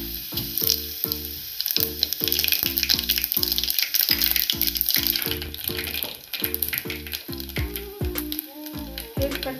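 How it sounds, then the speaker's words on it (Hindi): Garlic cloves and mustard seeds crackle and sizzle in hot oil for Gujarati dal dhokli, a continuous bright frying hiss over a steady, rhythmic low thumping beat. "2-3 कलियां लहसुन की डालेंगे, थोड़ी सी हम राई डालेंगे।"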